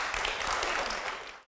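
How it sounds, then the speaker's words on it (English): An audience applauds steadily and densely for over a second, the clapping fairly loud and sustained before cutting off abruptly to near silence at the end. "So, big round of applause for Pam."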